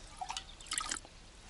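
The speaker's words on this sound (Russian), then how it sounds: "Видно, как поступает свежая вода." Fresh water trickles and drips into a hand-dug well in the wilderness, faint and close, with a few sparse drops and small splashes.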